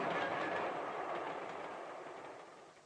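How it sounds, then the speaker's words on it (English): A train rumbles past steadily with a broad, noisy roar that slowly fades over a few seconds, no voices. "Here's my train."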